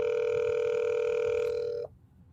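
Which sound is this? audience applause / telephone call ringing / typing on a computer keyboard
telephone call ringing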